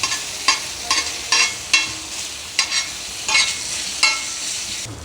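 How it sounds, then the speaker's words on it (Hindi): Chopped onion, cumin and ginger-garlic paste sizzle steadily in a pan while a spoon scrapes and stirs in about eight regular strokes, loud and close, with no talking. "ये देखें प्याज ज़ीरा और अदरक लहसुन को मैंने अच्छे तरीके से फ्राई कर लिया।"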